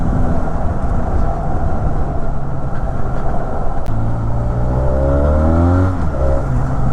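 A Benelli 502C twin-cylinder motorcycle rumbles on the road, then its engine revs up and the pitch sweeps upward through the gears, loud and close amid wind and traffic noise.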